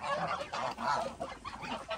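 Geese honk repeatedly in a pen set up for egg production, a steady run of overlapping nasal calls, fairly close and moderately loud, with no talking.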